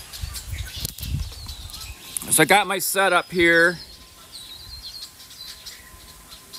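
Birds by a lake in Michigan on a cool fall day give a short burst of chirpy calls and wing flutter near the middle, close and fairly loud, with a person talking before and around it.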